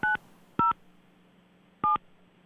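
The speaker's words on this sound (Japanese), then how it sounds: "あ、ただいま電話が始まりますね" Three short telephone keypad dialing tones, each a crisp dual-pitch beep about a tenth of a second long, with irregular gaps before a call, over a faint steady hum and no talking.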